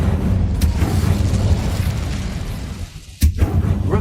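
The Incendio fire spell in Hogwarts Legacy lands as a loud, rumbling boom that roars continuously. Near the end it thins out, followed by a sharp burst and a short crackle.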